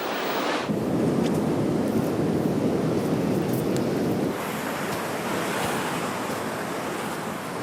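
Ocean waves wash onto the beach at Tarquinia, a continuous roar of surf mixed with wind buffeting the microphone, steady and fairly close, with no one speaking.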